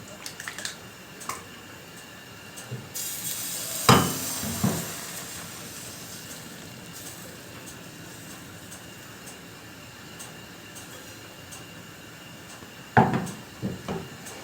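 A sizzling hiss swells as thin pancake batter made with whey hits a dry preheated pan, with a couple of clattering knocks from cookware at the start and again near the end.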